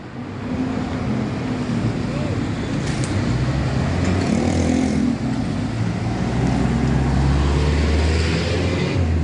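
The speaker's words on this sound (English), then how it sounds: "the ebb and flow of traffic here" Busy city street traffic in the Philippines, a steady broadband rumble of passing vehicles with wind buffeting the microphone throughout and no clear individual horns or engines standing out.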